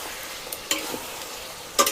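Wild boar meat being stir-fried in a pan, a soft steady sizzle with a few brief scraping stirs of a utensil, close and fairly quiet, no voices.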